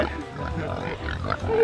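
Pigs on a farm lodge grunting at close range, short low rumbling snorts mixed with a person talking to them.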